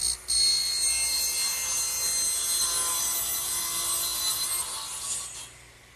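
A saw cuts through wooden bookcase shelf stock in a workshop, a steady high whine with a rasping edge that runs evenly for several seconds before tapering off, close and alone.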